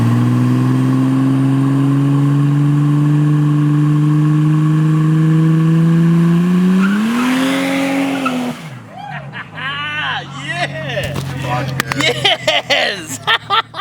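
A VL Calais with a TH400 automatic holds high steady revs on the transbrake, its engine note climbing before a loud launch with chirping tire squeal and surging, uneven revs, all up close.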